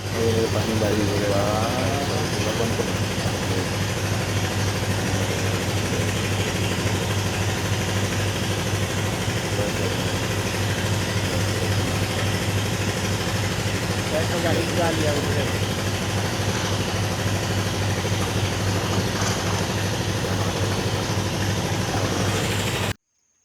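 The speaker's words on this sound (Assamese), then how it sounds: "এই দেখিছে চেলু মেচিন, নদীৰ মাজত দমকলৰ মেচিন। এয়া দি বালি উঠায়" A sand-lifting pump engine runs in the middle of a river in Assam, droning steadily and loudly with an unbroken low mechanical hum for the whole stretch before cutting off at the very end.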